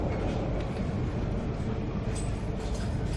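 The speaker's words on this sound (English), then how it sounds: "Here's one of the trains that go to the Ekka, I believe" A passenger train bound for the Brisbane Ekka showgrounds rumbles past very close by, a dense, steady roar of wheels and carriages that holds evenly from start to finish.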